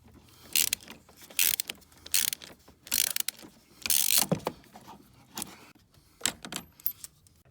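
Ratchet with a 24 mm socket on an extension loosening the oil filter housing of a Chevy Colorado engine, repeated rapid clicking bursts separated by brief pauses, close and fairly loud.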